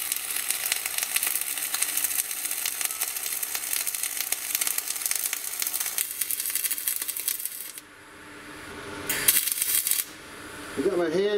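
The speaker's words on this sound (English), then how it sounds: "this is my multi-pass weld" Multi-pass weld laid on steel plate, a loud, continuous close crackle and sizzle of the arc that cuts out briefly near the end, then restarts in a short burst.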